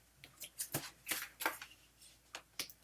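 Cut pieces of cardstock for a gnome fall folio are slid into a scoring board, making soft, close papery taps and rustles in an irregular rhythm, with no talking.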